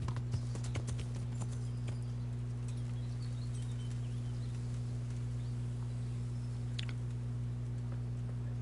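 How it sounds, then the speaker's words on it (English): Horse hooves clip-clopping in Kingdom Come: Deliverance, a light rhythmic patter of steps over a constant low steady hum, with a few sharper clicks near the start and no speech. "The name of my horse is Pebbles."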